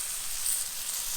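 Food sizzles steadily on a hot griddle as it is folded over with a spatula, a soft, even hiss heard up close with no talking.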